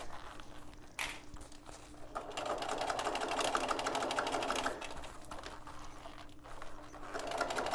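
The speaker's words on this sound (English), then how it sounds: "I want to stitch as close to that cording as possible." A sewing machine stitches fabric close to cording in steady rapid bursts, near and fairly quiet, with a short pause and restart partway through.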